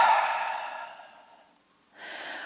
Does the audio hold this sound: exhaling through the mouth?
yes